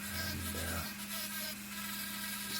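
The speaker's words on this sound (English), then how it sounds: "it's time to carve the fin slots" Rotary tool grinding fin slots into a handmade wooden mackerel fishing lure, a steady close whirring hum with rough rubbing texture that holds continuously throughout.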